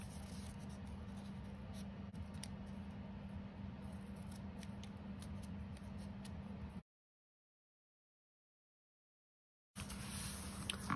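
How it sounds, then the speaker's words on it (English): Standard scissors snip shapes into paper near the top edge while making a doily for a junk journal, a steady run of close, crisp cuts that stops abruptly for a few seconds before resuming. "cutting out shapes near the top."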